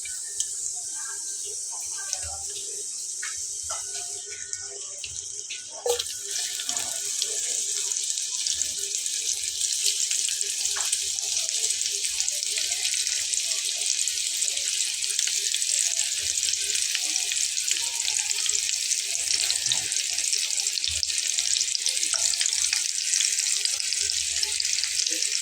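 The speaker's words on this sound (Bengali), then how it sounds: "দেখুন, আমি এখানে মাছগুলো দিয়ে নিয়েছি, এটা ভাজা হবে।" Hilsa fish frying in hot oil on a stove gives a loud, continuous hiss and crackle that jumps up and then holds steady and dense throughout, with occasional soft clicks and a voice talking faintly now and then.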